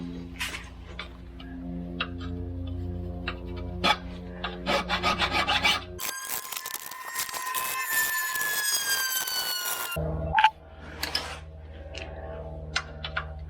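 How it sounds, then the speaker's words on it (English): A hand file rasps across the chewed, damaged flats of a bolt head, first in short strokes, then in a dense run of scraping strokes, then a few more strokes, close and loud. "So I'm going to have to file these flats flat again"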